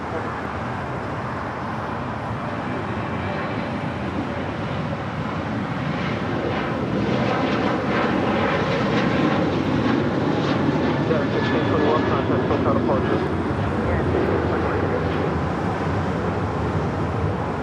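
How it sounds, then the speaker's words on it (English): A Boeing 737-900ER airliner takes off down runway 25 Right at LAX, its broad jet roar swelling steadily from a distance under ongoing talk. "737-900ER. Now rolling down 25 right."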